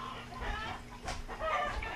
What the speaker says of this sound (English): my rooster's chicken's going a little wild out there